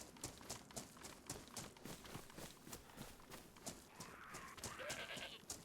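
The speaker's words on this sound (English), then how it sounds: "That zombie's killing that goat." A goat in the video game DayZ is attacked by a zombie, with bleats over rapid thumping hoof-like steps and hits, strongest and busiest near the end.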